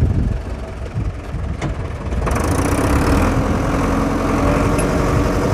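An Agrale-Deutz 4.110 Turbo tractor's diesel engine runs steadily and loudly nearby, its note thickening as the driver shifts into reverse.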